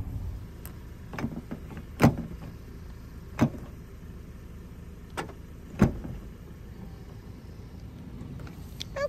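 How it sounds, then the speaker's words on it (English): A van carrying an alpaca rolls along with a steady low road rumble from inside the cabin, broken by a few sharp clicks and thumps. No one speaks. "Riding along in the alpaca van."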